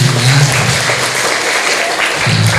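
Junior high school students applaud at a waste-awareness outreach session in an Indonesian school, a dense, steady wash of clapping lasting the whole stretch with a few voices mixed in.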